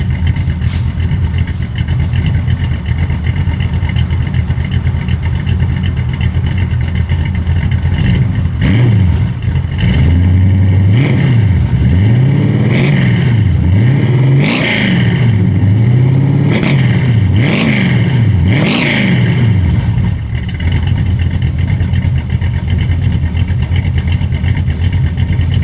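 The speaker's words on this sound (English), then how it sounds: "let me get some revs, but this old exhaust sounding pretty good" A car with an old exhaust idles with a steady rumble, then is revved repeatedly in a series of rising and falling blips, loud and close, before dropping back to idle.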